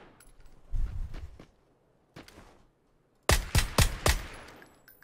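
Gunfire in the video game PUBG: a few scattered shots early, then a loud, close rapid burst of four or five sharp reports near the end, with no talk.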